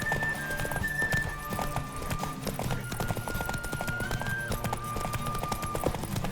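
A galloping horse races in the video game Witcher 3, rapid rhythmic hoofbeats pounding steadily with occasional faint whinnies and tonal music underneath.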